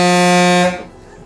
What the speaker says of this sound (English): The only thing that this has that the original one didn't have is a super loud air horn.